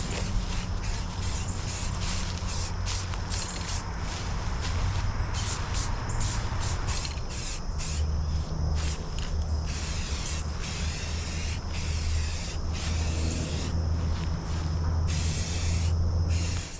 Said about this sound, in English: I'm gonna shake up a can, we'll get a couple coats on this